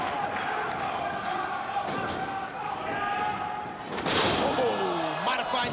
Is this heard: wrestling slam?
yes